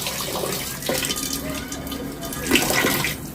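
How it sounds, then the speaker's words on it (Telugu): Running tap water splashes steadily over a crab being rinsed in a sink, a continuous broadband gush with brief clatters as the shell is handled. "పీత శుభ్రంగా కడుక్కోవాలండి"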